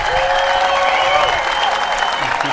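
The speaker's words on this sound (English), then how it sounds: "One more round of applause for these two amazing athletes." Crowd applause for two pickleball athletes at the US Open Pickleball Championships, continuous clapping with cheering voices and a faint whistle-like tone mixed in, filling the venue for a few seconds.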